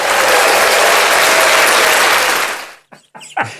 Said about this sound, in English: Should we have a round of applause for him?